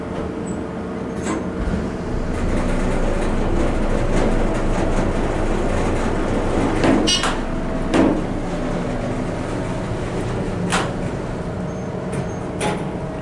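An older late-1980s Dover Impulse hydraulic elevator runs upward with a steady low hum and rumble, punctuated by several sharp clicks and clunks from the car.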